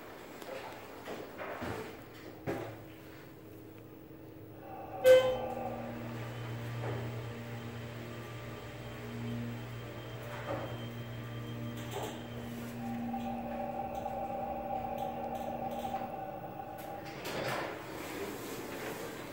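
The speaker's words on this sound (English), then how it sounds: "Takes forever for the door to close." A Schindler 330A hydraulic elevator door in a Barnes & Noble store slides shut slowly after a sharp clunk, with a sustained motor hum and faint chimes under the low, drawn-out rumble of the closing panels.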